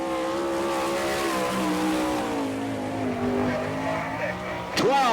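A sprint car roars around a dirt track at a Winternationals race in Gibsonton, Florida, its engine a loud sustained rising and falling drone near the mic, ending in a sharp whine as it sweeps past.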